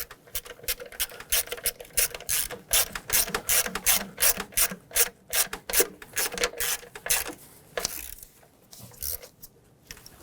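A hand ratchet tightens a rear valve cover bolt on a 2013-2020 Nissan Pathfinder with the 3.5L V6, making loud, close, rapid pawl clicks in quick rhythmic bursts that slow and trail off near the end.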